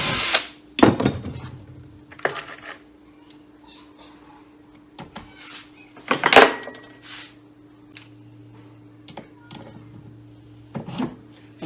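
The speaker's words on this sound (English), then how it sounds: "fit all three of these parts together just with a couple of rivets" Parts of a homemade fishing seat box riveted together by hand, with several sharp metallic clicks and snaps of the rivet tool spaced irregularly over a faint background hum.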